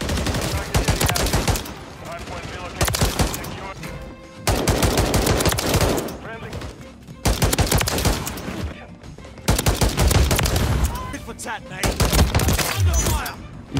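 Rapid automatic gunfire from the DM56 Immolator rifle in Modern Warfare 3, fired in four or five long, loud sustained bursts separated by short pauses.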